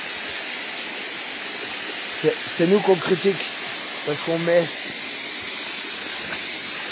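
A secret waterfall roars in a steady, broad rush of falling water throughout, while people talk briefly over it.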